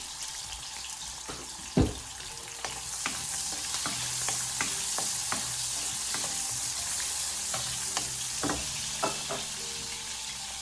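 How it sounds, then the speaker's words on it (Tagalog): Garlic fries in oil with a steady, bright sizzle throughout, ahead of shrimp pancit canton. A sharp clack early on and scattered soft scrapes and taps of stirring sit over the crackle. "After I finish frying my garlic, we will use the oil for our onion."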